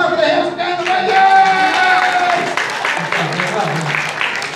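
Children at a library show burst into clapping and excited shouting after guessing an animal, with bright, overlapping young voices over the claps before the noise thins out.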